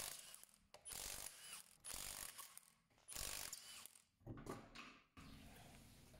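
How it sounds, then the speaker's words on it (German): A ratchet works loose the rear wheel bolts on a Fiat Stilo 1.6 16V, sounding as several bursts of sharp, close clicking separated by short pauses and handling noises. "Die werden wir uns jetzt erstmal lösen, damit wir den Reifen runterkriegen."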